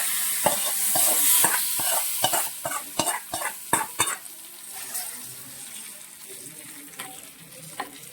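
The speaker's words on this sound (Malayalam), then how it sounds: "നമ്മുടെ കടുക് താളിച്ചത് നമുക്ക് കറിയിലിട്ട് ഒഴിച്ച് വെക്കാം." Mustard seed tempering poured into a coconut-ground prawn curry, with a run of sharp crackles and a loud hiss at the start that settles into a softer, steady simmering sizzle close by.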